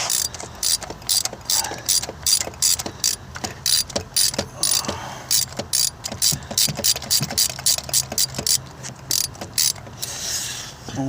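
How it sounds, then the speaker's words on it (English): A ratchet works loose an ignition coil bolt on a Honda Accord with a misfire, giving rapid, close clicking in repeated bursts separated by short pauses, alone with no voices. "we got my ratchet put on now. It's ready to take this thing out of here."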